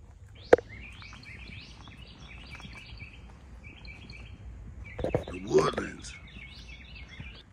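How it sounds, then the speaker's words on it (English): Birds call and chirp in a woodland at historic mounds in Georgia, with bursts of tweeting at moderate distance over a quiet background and brief patter. "Got the birds going off."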